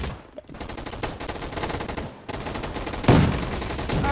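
Rapid gunfire from a small shotgun in a Roblox first-person shooter, a dense run of close, sharp shots with one heavier blast near the end.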